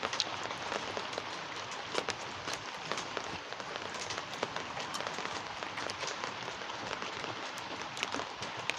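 Rain falls steadily outdoors, a dense, even hiss of drops on surfaces with scattered sharper patters, continuous and fairly close, with no talk over it.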